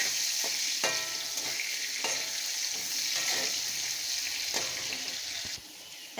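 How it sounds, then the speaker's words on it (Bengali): Papaya pieces sizzle and crackle loudly in hot oil with salt, with a few scraping stirs punctuating the steady frying hiss. "লবণ দিয়ে পেঁপেটা সুন্দর করে লাল করে ভেজে নেব"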